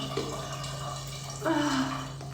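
Water running from a shower in a bathroom, a steady hiss with a brief change in the flow partway through; close and continuous with no talk.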